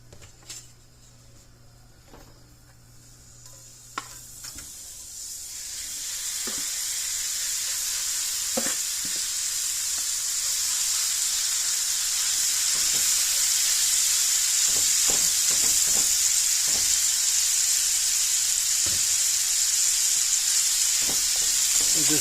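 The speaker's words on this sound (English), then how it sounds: "And just cook that ground beef up, get it nice and brown." Ground beef frying in a pan, with bacon in with it: a sizzle that swells after a few seconds into a loud, steady hiss, broken by occasional scrapes and taps of a stirring utensil.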